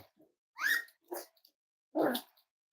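Cavalier King Charles spaniel puppies give three short, sharp barks, close by with quiet pauses between them.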